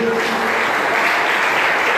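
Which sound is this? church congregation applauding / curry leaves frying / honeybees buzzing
church congregation applauding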